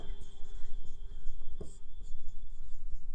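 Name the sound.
writing a definition by hand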